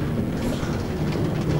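Minecraft roller coaster train rolling along its rails in the video game, a steady dense rumble with faint rail clatter, continuous and fairly loud throughout, no talk.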